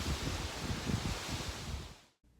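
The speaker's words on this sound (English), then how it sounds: "I don't control the wind." Wind gusts blow steadily outdoors, a low rumbling buffet that sounds like wind hitting a microphone, quiet overall. It cuts out abruptly near the end.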